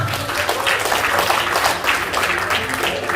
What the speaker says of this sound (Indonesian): Tepuk tangan Bapak Ibu untuk peraih motor dan mobil di Denpasar Bali